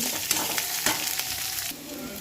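Chopped onions with curry leaves frying in a pan for wheat rava upma, a steady close sizzle with faint stirring scrapes and brief spatters, easing slightly near the end.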